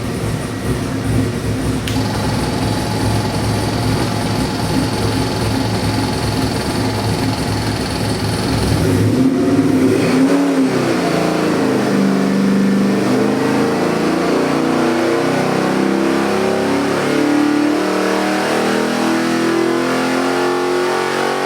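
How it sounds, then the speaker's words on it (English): A Chevrolet LS 454 cubic inch crate engine built for a 1970 Chevelle swap runs on a dyno, holding a loud high-rpm roar with a whine, then dropping to a lower, rougher steady drone. "got your 1970 Chevy Chevelle engine on a dyno. Has to be our LS 454 cubic inch"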